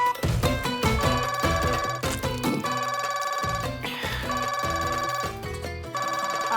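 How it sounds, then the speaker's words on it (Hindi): A mobile phone ringtone plays loudly and continuously as a repeating electronic melody with steady rhythmic notes, heard alone without talk. "आपका फोन बज रहा है, जवाब दीजिए।"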